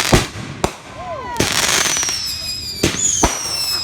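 Fireworks being set off outside, several sharp loud bangs and crackling bursts with whistling rising streaks between them, close by.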